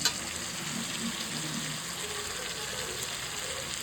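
Chicken pieces dropped into hot spiced masala in a pan sizzle loudly, a steady hissing fry held throughout after a sharp initial splash, close and continuous.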